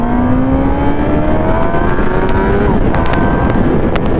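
Motorbike engine accelerating hard at high speed on a highway ride, loud and continuous with rising pitch and heavy wind roar, with a few sharp clicks near the end.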